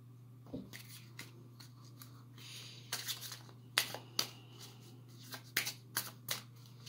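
Tarot cards are shuffled and cut close by, with quick papery riffles and flicks in several bursts and sharp slaps as the deck settles.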